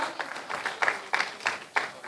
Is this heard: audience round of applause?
yes